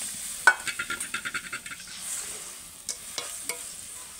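Fish pieces go into a boiling, spiced oily fish gravy in a pan: a quick run of rhythmic stirring clacks over a soft sizzle, then a few scattered utensil knocks.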